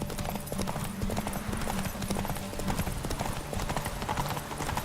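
A horse gallops at full speed in the video game Witcher 3 Wild Hunt, with rapid continuous hoofbeats over a low background rumble that carry through the whole stretch.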